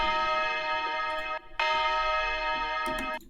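Bright, ringing church bell tones sustain in two long strikes separated by a brief gap, sounding processed and layered like a music sample in a big room dance track.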